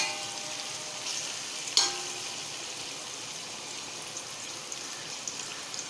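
Onion softening in a spoonful of ghee over medium heat, a continuous close sizzle with a faint crackle and one sharp tap partway through, no voices.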